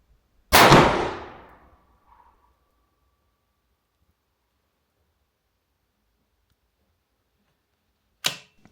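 A single sharp shot from a Sako TRG 22 rifle fitted with a Precision Armament Hypertap compensator cracks loudly and rings out briefly, followed by quiet and a second sharp report near the end.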